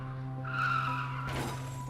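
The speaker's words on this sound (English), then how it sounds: "I shifted into reverse and stepped on the gas." A car revs hard in reverse as its tires skid and squeal, a sustained engine drone with a louder burst of tire noise midway, staged as an audio drama effect.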